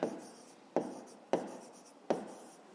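A pen writing by hand on paper while working a fifth-grade maths exercise, four distinct scratchy strokes at a steady rhythm, close and fairly quiet, with no talking.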